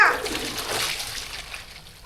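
A short splash and slosh of water while washing dishes, then a soft trickling hiss fading away, close by.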